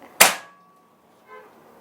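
One sharp, loud snap of a Predator 38 folding-stock PCP air rifle shot at 1047 fps with a quick decay, then a faint metallic clink about a second later.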